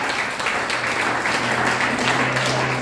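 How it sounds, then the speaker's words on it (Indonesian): A church congregation claps for God during a worship service, a dense, steady wash of many hands sustained throughout, with a low sustained organ or keyboard tone underneath. "Kita tepuk tangan bagi Tuhan."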